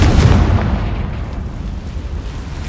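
A Confringo blasting spell explodes in Hogwarts Legacy: one heavy, deep boom hits at the start, then rumbles and fades over about two seconds, with no voices over it.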